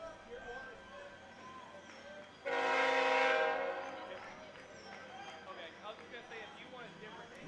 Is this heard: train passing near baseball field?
yes